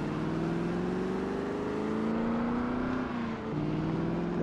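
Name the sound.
car engine in Project Zomboid video game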